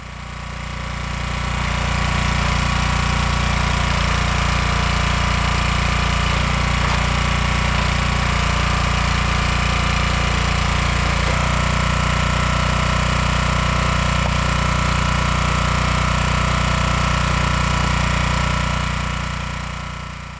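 A homemade hydraulic log splitter runs steadily while splitting red oak rounds, its engine droning loud and continuous throughout with no speech.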